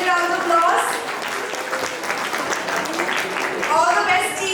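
Applause rises from the audience as a space science quiz competition for school teams opens, a steady clapping crowd with voices and chatter running through and over it.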